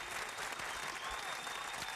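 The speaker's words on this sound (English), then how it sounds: "Big round of applause" A crowd at the National Radio Hall of Fame induction claps steadily, a dense wash of applause that holds at an even level throughout.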